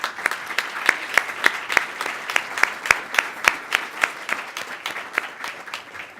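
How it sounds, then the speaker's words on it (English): An audience at a city club annual meeting breaks into steady applause, a dense crackle of many hands clapping with clear individual claps standing out, sustained and even for several seconds with no talking. "Can we give them a round of applause?"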